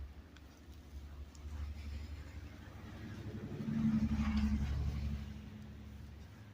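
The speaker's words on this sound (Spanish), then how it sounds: "Ahí van los carros, van despacio." Cars creep slowly along a snowy street in Chicago during a snowstorm, giving a faint, low engine rumble that swells as one vehicle passes closer, with light speech underneath.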